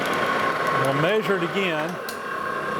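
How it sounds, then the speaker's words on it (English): A lathe hums steadily while taking a very light cut on a new safe dial for a Victor safe restoration, and someone talks briefly over the machine noise. "So I'm going to start by just taking a real light cut."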